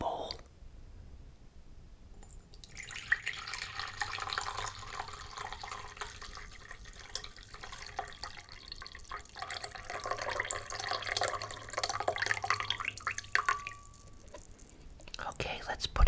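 Spicy ramen broth pours from a takeout container into a bowl, giving a steady close liquid splash and trickle for most of the stretch, with small clicks and quiet handling noises around it.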